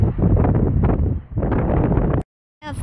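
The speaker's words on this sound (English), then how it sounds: "Sorry if the wind's very shaky." Wind buffets a microphone while planes are watched at Sydney Kingsford Smith International Airport, a loud rumbling low roar in gusts that cuts out abruptly near the end.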